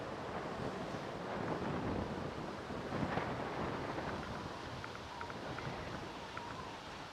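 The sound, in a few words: strong wind blowing at Manchester Airport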